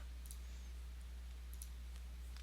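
Sharp, sparse key clicks from a wireless computer keyboard, a few isolated taps over a steady low hum while someone works on Skyrim quest tutorials.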